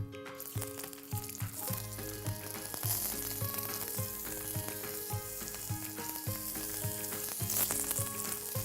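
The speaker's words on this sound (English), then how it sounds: "I'm going to add a little bit of Bellucci olive oil to the pan for our artichoke chips" Artichoke chips fry in olive oil in a pan with a loud, steady sizzle and rapid crackling that holds close and unbroken throughout, with nobody speaking.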